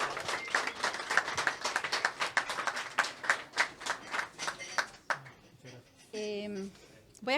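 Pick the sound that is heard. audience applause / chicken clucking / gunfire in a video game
audience applause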